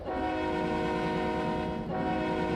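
A video game train horn from a custom train sound pack blares in one long, loud sustained chord, briefly dipping before holding steady again, with no talking.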